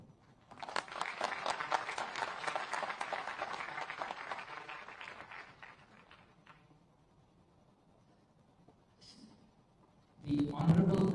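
Audience applause at an annual startup event at IIIT Mandi: a dense burst of clapping rises quickly, holds for several seconds, then thins and dies away, followed by faint room sounds and a voice returning at the end.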